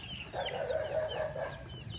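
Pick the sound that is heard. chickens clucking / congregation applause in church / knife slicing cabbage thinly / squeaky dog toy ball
chickens clucking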